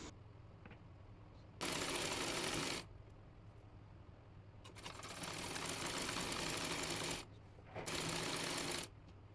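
A sewing machine stitches open lace onto salwar fabric in three loud bursts of steady whirring. Quieter stretches of handling noise lie between the bursts.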